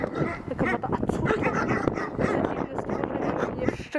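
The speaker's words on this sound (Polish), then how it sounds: "Ojojo, piesek na nas szczeka." A dog barks and yips in short, repeated bursts at a moderate distance, mixed under close conversational talk throughout.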